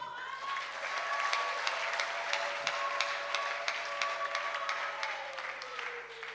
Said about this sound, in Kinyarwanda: Mwampereye Imana amashyi.